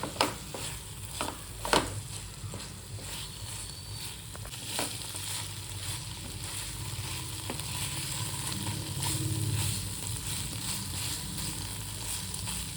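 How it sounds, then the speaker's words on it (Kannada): Paneer stirred and frying in ghee in a pan, a steady close sizzle with scraping stir strokes and a few sharper utensil clicks, no voices. "ಪನ್ನೀರನ್ನ ಹಾಕಿ ಚೆನ್ನಾಗಿ ಮಿಕ್ಸ್ ಮಾಡಬೇಕು."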